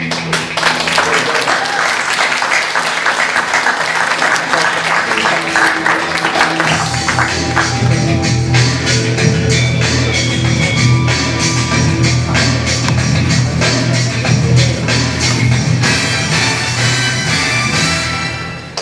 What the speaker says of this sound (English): Let's y'all give a huge round of applause.